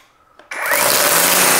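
An Ego battery-powered string trimmer with auto string release starts up after a quiet moment and runs at a steady, loud, high-pitched motor whine that holds constant to the end.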